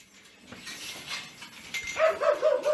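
A farm dog barks and yips at a barn where livestock are kept, a few sharp, fairly close calls rising toward the end over quiet surroundings.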